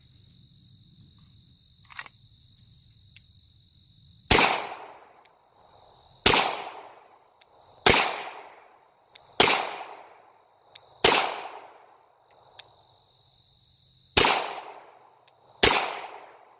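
Seven sharp, loud pistol shots from a Beretta M9A3 9mm fired double and single action, spaced irregularly about one to two seconds apart, each with a short ringing decay, after a quiet lead-in.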